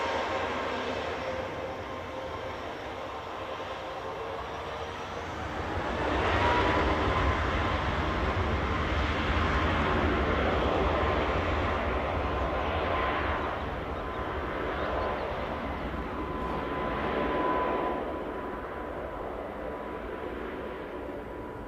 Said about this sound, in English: Just as that aircraft departs